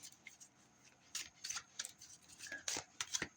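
A deck of cards being shuffled by hand, a series of crisp riffling bursts with brief pauses between, close and fairly soft, with no talking.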